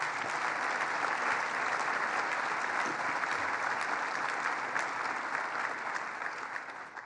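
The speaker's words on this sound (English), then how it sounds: "So give yourselves a round of applause." A steady, dense round of applause from an audience at a governor's announcement event, sustained and even throughout before easing slightly toward the end, with no voices on top.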